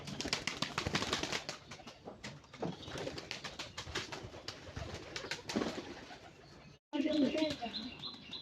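Pigeons let out of their coop before a grain feeding, with busy flapping wings and soft cooing close by, some chirping mixed in, and a brief gap before a burst of wing noise.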